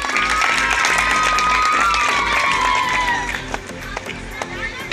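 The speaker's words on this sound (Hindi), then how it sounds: "417 नंबर लाए हैं, इनके लिए भी जोरदार ताली हो जाए।" An audience claps for a student honored at a village panchayat ceremony for class 10 toppers: dense, steady applause mixed with crowd noise and a few whistles, thinning out toward the end.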